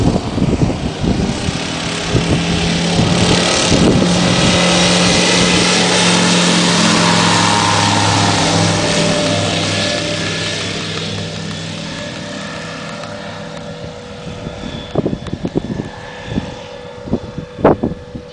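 An aircraft engine roars steadily and loudly, close by, building and then slowly fading as the plane takes off, with a few clunks and knocks near the end.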